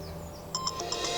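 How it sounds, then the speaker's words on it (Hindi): A phone ringtone starts partway through, a repeating electronic melody of bright tones sounding moderately close over a quiet, humming background. "कहीं फोन बज रहा है। ये तो जिहान की रिंगट्यून है।"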